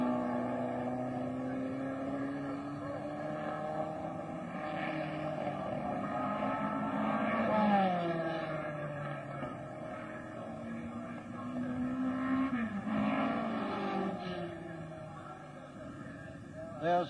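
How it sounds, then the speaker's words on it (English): A 1963 Brabham Climax race car accelerates down the pit straight at the Australian Grand Prix, its engine note climbing through gears in rising sweeps, passing close, with a voice speaking over it. "David Mackay in one of the Brabham Climax cars, still well in the race in fourth place, and here he is accelerating down pit straight"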